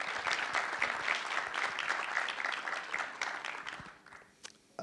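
A warm round of audience applause at a film event welcoming director Justin Kurzel, steady and full for about four seconds before thinning out into a few scattered claps and quiet room tone.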